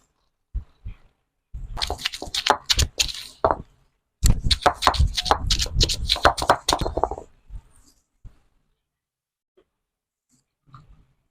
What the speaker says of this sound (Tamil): ஒரு வஞ்சர மீன் குழம்புக்கு நம்ம இப்போ பூடை தட்டிக்கிறோம்